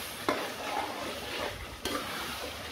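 Tomatoes frying in a lot of oil in a pan are stirred, a steady close sizzle with a couple of brief scraping strokes from the utensil.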